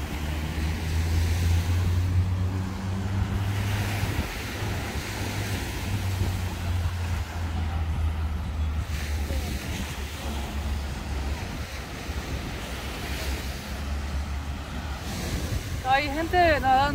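Steady surf washes onto a beach on the Río de la Plata in Montevideo, a broad continuous roar with wind buffeting the microphone and people talking faintly in the background.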